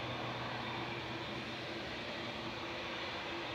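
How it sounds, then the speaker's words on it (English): An Etihad Boeing 787-10 airliner departing Manchester Airport, heard as a steady, even broadband roar from a distance with no breaks. "Etihad departing in front of us now, going back to Abu Dhabi"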